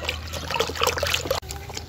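Chicken dipped into water mixed with Ceramide shampoo, producing irregular splashing and trickling of water, fairly close, with a sharp break near the end before a quieter stretch.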